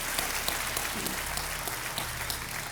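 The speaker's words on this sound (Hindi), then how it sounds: "एक बार फिर तालियों के साथ राजीव मखनी जी का अभिनंदन" A KBC game show audience applauds steadily to welcome a contestant back, a continuous, even patter of many hands clapping at moderate loudness, with a faint low hum beneath.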